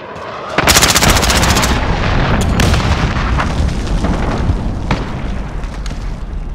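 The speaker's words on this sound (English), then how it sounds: "Enemy cruise missile incoming!" Cruise missile strikes and gunfire thunder through a Modern Warfare match: a sudden heavy blast opens a loud, rumbling barrage of explosions and shots that slowly fades.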